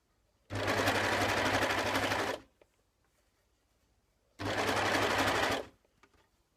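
A serger overlock machine stitching a curved seam in fabric, two close bursts of fast whirring stitching, the first about two seconds long, then a pause and a shorter second run.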